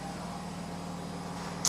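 A washing machine runs with a steady mechanical hum and low drone, churning evenly nearby throughout, ending in a brief louder bump.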